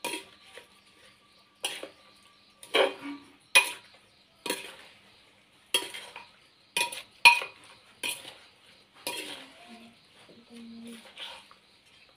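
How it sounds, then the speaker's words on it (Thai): Shrimp and vegetables stirred together in a pan, giving a series of sharp utensil clinks and scrapes in irregular bursts, close and fairly quiet, with a faint sizzle toward the end. "นี่เราก็คนให้เข้ากันเลยนะคะทั้งกุ้งทั้งผักทั้งสายนะคะ"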